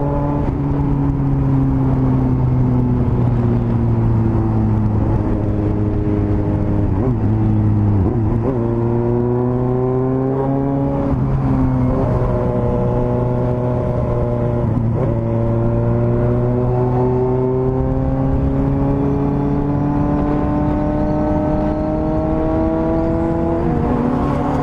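A Suzuki GSX-S750 motorcycle climbs a hill on a road, its engine droning loud and close with rising pitch through repeated gear shifts, no talk over it.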